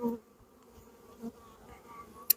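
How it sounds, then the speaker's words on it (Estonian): Honeybees move quietly over hive frames during a spring colony inspection, a soft low buzz with faint scattered clicks and a brief sharp tap near the end. "Mesilad on suht rahulikud."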